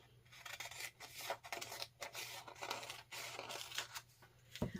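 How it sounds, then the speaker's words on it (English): Quilt fabric strips being cut, faint repeated scissor snips and rustling of cloth in a quiet room over a low steady hum, with one sharper click at the close. "we will cut these strips up right here, and we will cut away the strips as we need them."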